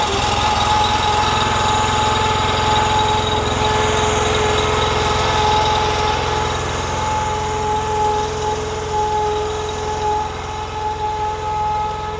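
A Honda iGX800 engine on a 42-ton extreme-duty industrial wood splitter runs steadily at close range, a loud, even engine drone with a constant hum and vibration through the whole stretch and no voices.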